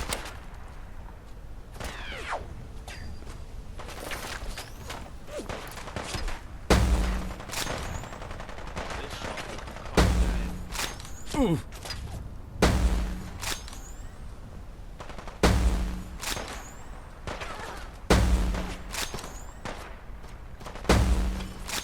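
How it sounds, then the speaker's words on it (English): Enemy machine gun fire in the video game Fallout London: repeated bursts of sharp shots with heavier thumping impacts recurring every few seconds, loud and close, sustained over about twenty seconds with no speech. "That's the radioactive one with the machine gun"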